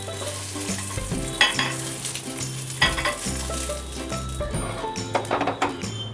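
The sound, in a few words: eggs frying in oil in a pan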